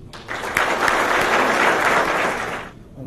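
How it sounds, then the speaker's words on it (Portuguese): Applause from a luncheon audience at a legal association meeting as a municipal justice secretary is introduced, a dense wash of clapping that swells quickly, holds steady for a few seconds and fades out. "Senhoras e senhores, recebam com palmas o secretário de Justiça Municipal, Dr. Rubens Zizek."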